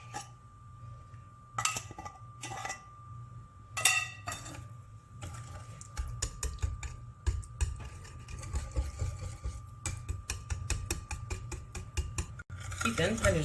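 A batter of cream, lemon juice, sugar, eggs and oil being stirred in a bowl, a few separate clinks of the utensil and then a steady run of rapid scraping and tapping strokes, close by, with no talking.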